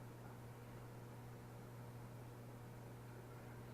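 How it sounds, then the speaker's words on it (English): A steady low hum with faint broadband whir, continuous and unchanging throughout, from a microwave oven running nearby during a stovetop beer brew day, with no talking. "You can hear the microwave going"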